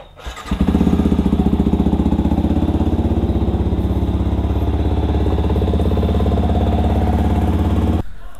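A Yamaha WR155R motorcycle engine starts up and runs at a steady, loud, close idle for several seconds before cutting off abruptly.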